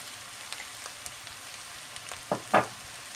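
Meat is stir-fried in a pan for a Turkish bean and meat stew, a soft steady sizzle with light crackles and two louder stirring scrapes toward the end.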